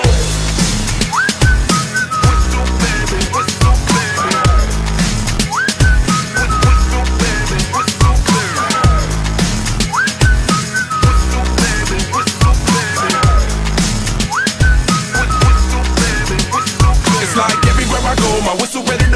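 A whistled melody runs throughout a loud pop-rap song, carried over a heavy thumping beat with steady rhythmic phrasing.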